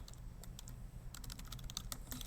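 Rapid typing on a computer keyboard, heard close and alone, with steady clusters of key clicks that grow busier toward the end.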